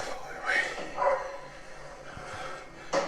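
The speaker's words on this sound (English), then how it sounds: "That must be his dog in the car or something. Might be a dog next door." A dog barks a few times in a quick, uneven burst, sounding somewhat distant, with people talking over it.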